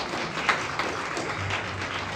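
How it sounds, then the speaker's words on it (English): Audience applause at a Leh ceremony launching the Live to Love Naropa care initiative, honoring grant recipients; a steady, moderate wash of clapping lasting a couple of seconds with a few sharper claps standing out. "I request everyone for a huge round of applause,"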